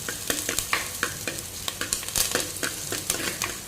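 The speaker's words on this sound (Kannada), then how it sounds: "ಇಷ್ಟನ್ನು ಇವಾಗ ನಾನು ಫ್ರೈ ಮಾಡ್ತೇನೆ" Spices sizzle and crackle in hot oil before masala is added, with frequent sharp pops and light stirring clicks throughout.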